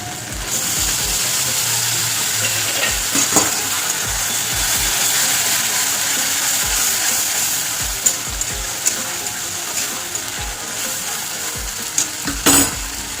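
Tomato sizzles steadily in oil with ginger, garlic and onion paste in a pan, a continuous bright frying hiss punctuated by occasional sharp scrapes and clicks of a stirring utensil.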